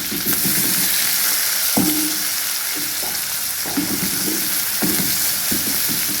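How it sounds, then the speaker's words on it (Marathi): Chopped onion and green chillies fry in a pan, hissing in a steady close sizzle broken by intermittent stirring scrapes, with no voices. "कांदा छान असं लालसर भाजून घ्यायचा आहे।"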